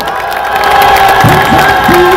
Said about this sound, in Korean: 투쟁하시라고 뜨거운 연대 박수 한번 부탁드리겠습니다